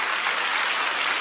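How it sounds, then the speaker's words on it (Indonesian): Church congregation applauding, a dense steady wash of clapping from many hands that fills the room evenly from start to end with no talk over it. "Tepuk tangan dong buat Tuhan."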